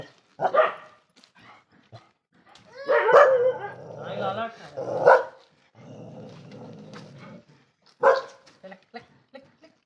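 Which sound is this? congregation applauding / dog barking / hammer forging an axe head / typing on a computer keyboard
dog barking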